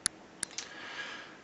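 Computer mouse clicks at a desk, two sharp, close clicks followed by a softer third click over a faint steady background hiss.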